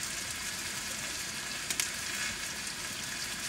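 Steady sizzling of food frying in a pan at a rooftop-tent campsite, a continuous crackling hiss with a couple of brief louder pops near the middle.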